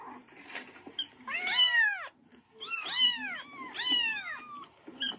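A cat meows loudly three times in a row, long drawn-out cries with short pauses between, close by in a quiet room.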